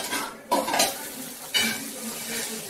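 Chopped potato tipped into spices frying in hot oil, two sudden bursts of sizzling as pieces hit the pan, with spoon and pot clatter while it is stirred, close up and without speech.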